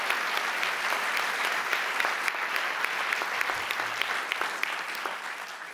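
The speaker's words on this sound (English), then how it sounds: "So you can give all 118 a big round of applause." Audience at a CUNY fall 2019 commencement applauding the 118 graduating journalism students; a full, sustained round of crowd clapping with a few sharper individual claps standing out, steady and fairly loud throughout.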